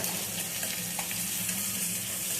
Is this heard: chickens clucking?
no